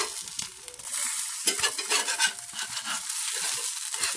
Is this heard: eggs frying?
yes